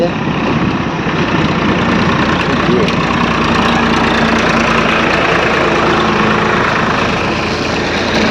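A motorcycle carries its rider along a farm track between fields, its engine a loud, steady, unbroken drone close by, with a voice partly heard over it.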